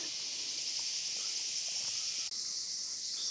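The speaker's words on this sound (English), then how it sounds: "The cicada is so annoying." Loud cicada chorus shrilling steadily throughout, a dense continuous high-pitched drone outdoors during birding, with a brief dip near the end.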